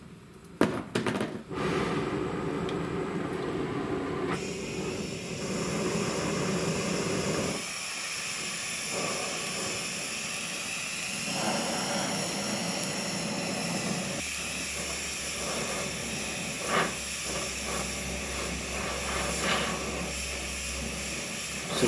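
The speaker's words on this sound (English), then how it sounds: "I'll be using my acetylene torch for this." An acetylene torch heats a bent snowblower auger in a workshop, giving a steady broad roaring hiss of flame that runs for most of the stretch at a close, fairly even level.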